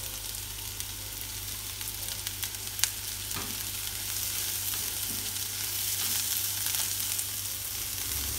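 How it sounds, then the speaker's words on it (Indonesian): Chili peppers and wilted eggplant frying in a pan, a steady close sizzle with a few stirring clicks and scrapes throughout, no talking. "Kalau sudah layu, masukkan cabai."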